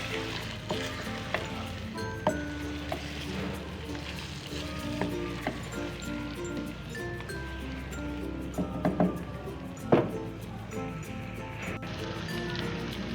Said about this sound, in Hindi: अब हम इसमें शामिल करके इसको 5 मिनट तक भूनेंगे बस।